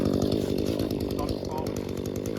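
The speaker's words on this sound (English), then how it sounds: "The chainsaw just bound up on that tree" Close, loud chainsaw running continuously as it cuts a tree, the engine buzzing and wavering slightly as the blade binds up.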